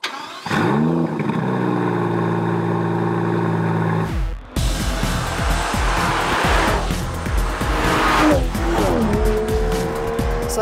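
A 2018 Aston Martin DBS Superleggera heard up close, its engine firing and holding a steady idle before the car moves off with a rising, roaring drive and tire noise, loud and alone with no talk.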